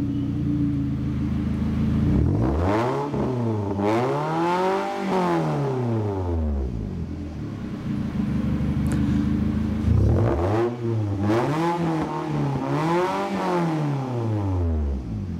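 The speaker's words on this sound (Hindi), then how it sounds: "गाड़ी स्टार्ट हो चुकी है, अभी आइडल में है गाड़ी" A 2007 Toyota Camry engine idles and then revs up twice, each rise in pitch climbing and falling back to a steady idle, heard up close with no talking.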